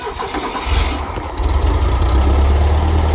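A 1970 VW Karmann Ghia engine cranks and catches, its low rumble swelling to a steady, loud idle within a few seconds.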